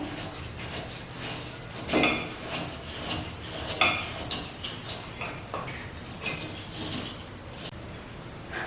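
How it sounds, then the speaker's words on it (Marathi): A knife chops jaggery finely on a board in quick, uneven taps and knocks, with a few sharper louder strikes among lighter clicks, close by and without voices. "इथे बघा मी हा गूळ आहे तो बारीक करून घेत आहे मस्त. चाकूने पटापट बारीक होऊन जातो."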